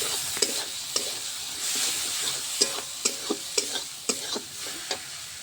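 Spice paste fries in released oil for a meat curry, a soft steady sizzle punctuated by repeated sharp taps and scrapes of a spoon against the pan.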